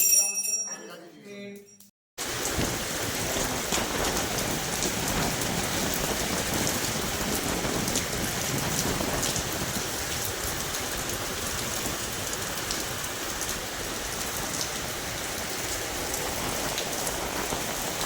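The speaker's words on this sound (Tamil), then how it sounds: "வீட்டுக்கு வந்ததும் வந்து செம்ம மழை, சூப்பராக மழை பெஞ்சு" Heavy rain pours down in a steady dense hiss that runs on without a break after a brief opening moment of other sound.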